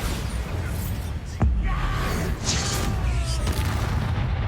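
Bombarda spell explosion in the video game Hogwarts Legacy: a single deep boom strikes sharply and rumbles on under a noisy wash of game effects and a voice.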